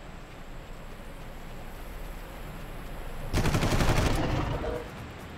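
Burst of automatic gunfire from a weapon in the video game Far Cry 1, rapid loud shots lasting about a second and a half after a quiet stretch of background ambience, then trailing off.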